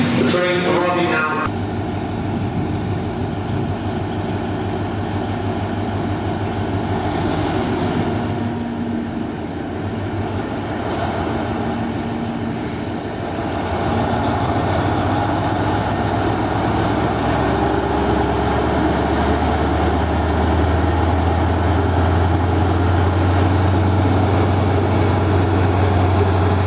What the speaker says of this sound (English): The train arriving now.